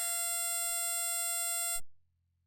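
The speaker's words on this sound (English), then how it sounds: "That's a square wave, very quiet." A quiet, steady square-wave tone from a Pure Data oscillator holds at an even level with a bright, buzzy edge, then cuts off abruptly, leaving near silence.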